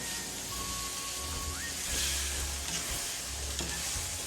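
Butter sizzles and crackles steadily in a hot pan as salmon or steak is basted, a dense continuous frying hiss up close, with no talk over it.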